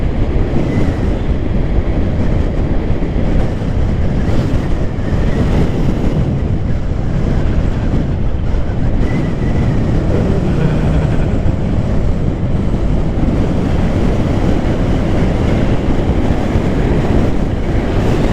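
A Harley-Davidson Street Bob 114 cruiser riding along, its engine rumble buried under loud, constant wind roar buffeting the microphone, dense and unbroken with no talking.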